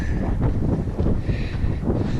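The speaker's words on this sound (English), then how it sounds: "It's windy in Kokomo." Steady wind buffeting a microphone outdoors near Kokomo Pass on the Colorado Trail, a continuous low rumble with gusty swells and no voices.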